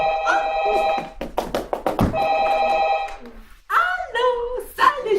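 A telephone rings in a surgeons' staff room during a stage play performance, its repeated bell tone sounding in bursts near the start and middle, with actors' voices speaking between and after the rings.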